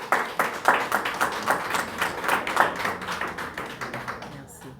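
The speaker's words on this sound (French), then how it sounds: "Sous vos applaudissements, avant qu'elle ne prenne la parole." Audience applause at a press conference for a singer, with fairly sparse, distinct hand claps at a moderate level that gradually thin out and stop near the end.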